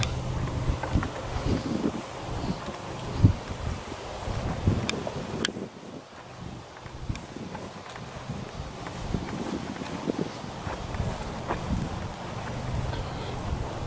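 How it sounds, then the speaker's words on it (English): Steady wind buffets the microphone in a cemetery with a continuous rushing roar, gusting louder and softer throughout. "it is a little windy, so could be kind of interfering a little bit"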